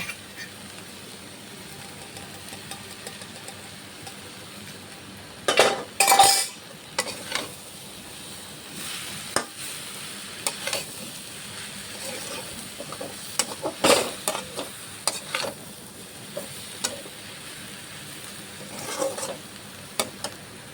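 Potatoes go into a frying pan for a Bengali cabbage-greens dish, giving a soft background sizzle punctuated by scattered clinks and scrapes of a spatula stirring against the pan.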